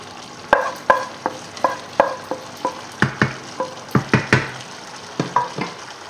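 Salmon risotto is stirred in a sizzling pan: a rhythmic series of distinct spoon knocks and scrapes, about a dozen strokes, over a constant low sizzle, close and clear.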